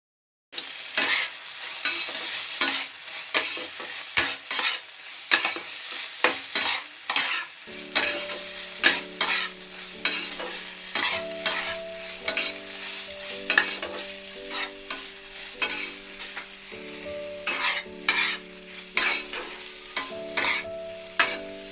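Vegetables are stir-fried with soy sauce so they stay crunchy, as a spatula scrapes the pan in a quick, rhythmic series of strokes over a constant sizzle, with steady background music tones joining partway through.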